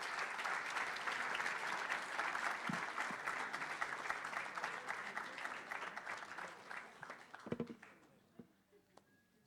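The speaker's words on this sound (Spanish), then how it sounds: "Un fuerte aplauso para él, por favor." Sustained applause from an audience at a commemorative event welcoming a newspaper's general manager to the stage, steady clapping that thins and fades out toward the end, a few isolated claps at the close.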